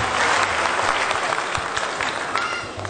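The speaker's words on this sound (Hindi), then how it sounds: "एक बार जोरदार तालियों से स्वागत किया जाए" A crowd claps loudly and steadily for about three seconds, dense applause that tapers slightly at the end.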